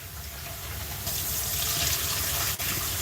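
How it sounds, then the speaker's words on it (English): Food being rinsed under a running kitchen tap, a steady close gush of water into a sink that grows louder partway through, with a brief dip near the end and no talking. "I like to rinse it off until you don't see any white,"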